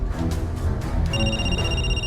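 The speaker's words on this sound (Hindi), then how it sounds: "थोड़ी देर बाद फिर से फोन की घंटी बजती है।" A telephone rings with a bright, electronic trill over a low background hum, one short burst of ringing.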